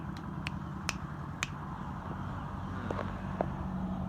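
Sharp finger snaps, several crisp clicks in an uneven rhythm, made to coax a bird to coo, heard close over a low steady background hum.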